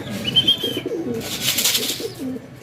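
Racing pigeons returning to their loft coo in low, rolling phrases close by, with a few soft chirps and faint background noise.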